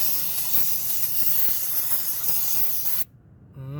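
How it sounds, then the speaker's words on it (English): AutoZone brake cleaner sprays onto a 1998 Toyota Camry transmission pan as one loud, continuous close-up hiss lasting about three seconds, then cuts off abruptly. "Get some brake cleaner. I'm using this from AutoZone."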